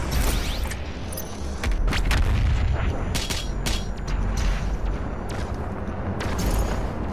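The BFG 10,000 firing in Doom Eternal, a sustained, loud, rumbling blast with booming impacts and metallic crackles layered over a continuous roar, no voices.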